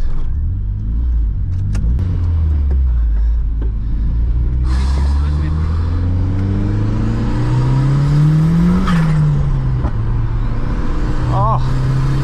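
Turbocharged 1.8T Mk2 Golf GTI with a big GTX2867 turbo pulling hard on a street run, engine drone climbing steadily in pitch as it comes into boost, dipping at a shift then rising again, loud and close with occasional talk over it.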